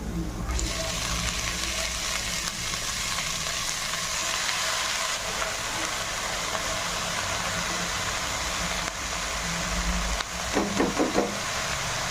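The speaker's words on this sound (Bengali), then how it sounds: "রসুনটা দিয়ে একটু হালকা ভেজে নেব। এর শাকটা দিয়ে দেবো।" Chopped leafy greens drop into garlic frying in a pan, giving a steady, close hiss of sizzling that runs throughout, with a short burst of utensil clatter near the end.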